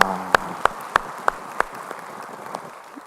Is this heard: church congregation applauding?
yes